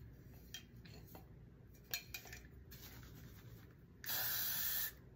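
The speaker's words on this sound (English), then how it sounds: "I take Gatsby spray." Gatsby spray misted over a covered tattoo: after a few quiet rustles and clicks, one close, loud aerosol hiss lasts just under a second.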